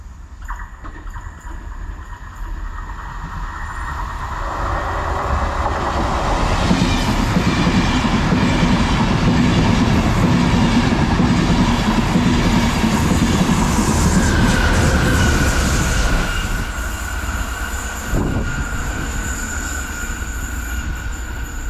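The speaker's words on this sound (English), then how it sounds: "passing through now is going to be another Enterprise service heading to Connolly" An Enterprise passenger train on the Newry–Belfast line bound for Connolly, with locomotive 231 at the rear, rumbles past close by. It builds to a loud, steady roar with wheel clatter and squeal, then fades.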